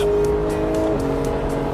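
A car on Michelin Pilot Sport Cup 2 tyres brakes hard from 200 km/h on a long straight, a loud steady engine and road roar with a tonal whine that drops in pitch, heard close up.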